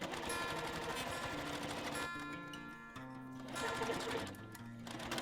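A sewing machine stitches quilt binding up close, running loud and steady with a rapid mechanical clatter, easing briefly midway before picking up speed again, with no talking.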